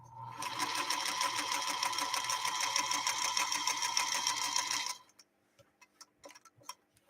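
A 1952 Singer Princess sewing machine stitches at a fast, regular ticking pace, close and clear for about five seconds, then stops, leaving a few faint clicks and handling sounds.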